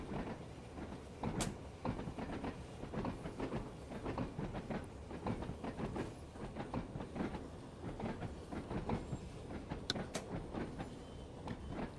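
A British Rail Class 801 train running on the East Coast Main Line in the Train Sim World video game: a steady rolling rumble with a rhythmic clickety-clack of wheels over rail joints throughout, with no talk.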